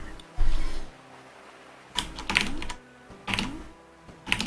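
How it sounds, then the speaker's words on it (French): Very fast typing of a game code on a keyboard during a FEZ speedrun, heard as a few rapid clattering bursts separated by short pauses, close and fairly loud, with low background noise in between. "Ça s'est peut-être entendu sur mon clavier, c'était très très rapide."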